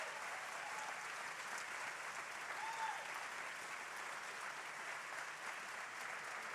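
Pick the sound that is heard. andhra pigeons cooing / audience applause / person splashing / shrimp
audience applause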